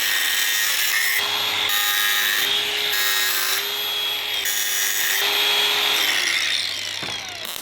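Metal pieces for a WWII Wespe axle being cut to length with a power tool, a loud grinding whine in several bursts with short breaks between, close and without talk.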